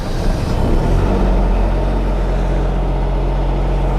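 An ES500 diesel heater runs steadily after starting, giving a continuous low, even engine drone with a deep hum that holds constant throughout, fairly loud and close.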